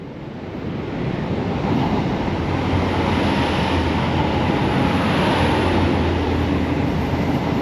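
A 10-car diesel passenger train passing along the seafront at Dawlish during Storm Nelson, a steady loud rumble building after the first second and holding, mixed with wind and surf noise.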